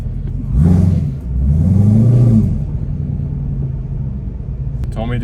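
A 2018 Camaro ZL1's engine revs hard twice for a burnout, each a deep rising roar up close, then settles into a loud rumbling idle.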